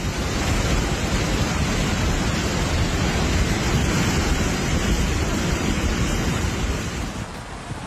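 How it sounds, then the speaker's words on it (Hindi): Loud, steady roar of surging flood water from swollen rivers during heavy monsoon rains and landslides in the Himalayan hills, a dense continuous rush that stays constant and eases slightly near the end, with no voices. "पानी के शोर को सुनिए जो डराने वाला है"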